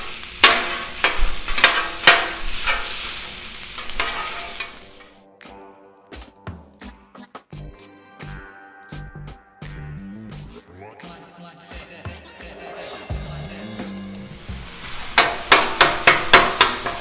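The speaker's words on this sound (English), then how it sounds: "So we're just gonna chop this stuff up." Sausage and vegetables on a Blackstone griddle: a spatula clatters in quick, sharp chopping taps at the start and end, with softer scraping and sizzling in between, close and fairly loud.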